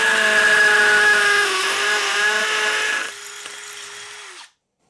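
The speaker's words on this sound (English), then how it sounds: "So I'm going to put hammer action on." A power drill on hammer action bores into a house wall with a loud, harsh rattling whine that shifts pitch partway through, then winds down and stops.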